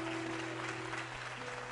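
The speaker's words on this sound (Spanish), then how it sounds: "Un fuerte aplauso." Church congregation applause during an evangelistic service, a brief burst of many hands clapping at a moderate level over a steady electronic hum and sustained tones in the room.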